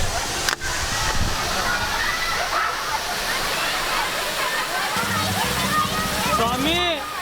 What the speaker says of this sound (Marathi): इथून आता चाललोय धबधब्यावरती. जिथं पाणी येतंय ना जोरात तिथं जाणार आहे.